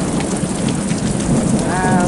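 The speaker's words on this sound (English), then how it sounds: "And there's the aforementioned thunder." Heavy rain pounding on a safari tent in the Serengeti, Tanzania, a dense steady roar with low thunder rumbling beneath it and brief faint voices.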